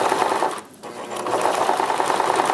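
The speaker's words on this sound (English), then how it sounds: "So we want to back stitch, start just at that staple." Sewing machine back stitching along an exposed garment zipper, a loud, fast, steady mechanical whir with a brief dip as the stitching reverses direction, running continuously without speech.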